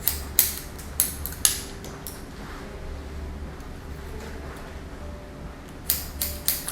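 Sharp scissor snips during a men's leaf cut using diagonal sections, a few crisp cuts at the start and a quick cluster near the end over quiet room tone, with no talking.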